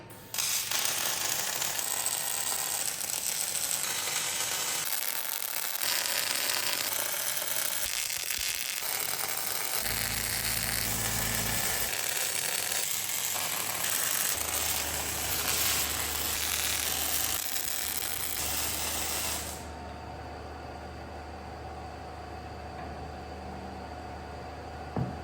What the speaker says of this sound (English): So yeah, I can weld them on now.